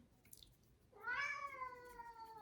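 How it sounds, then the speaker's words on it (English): A house cat meows once in a long, rising and falling call, moderately close in a quiet room behind the person painting, following a brief faint chirp. "and that's my cat in the background."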